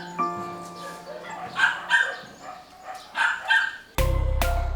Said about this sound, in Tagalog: dinala sa shelter sa Kapas Tarlac ang mga nasagip na aso.